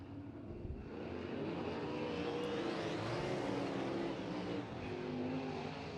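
Midwest Sprint Touring Series sprint cars go green for a heat race at Off Road Speedway, with a loud, sustained engine roar that swells as the field passes. The drone carries the wash of a wide, distant crowd of engines on a dirt oval.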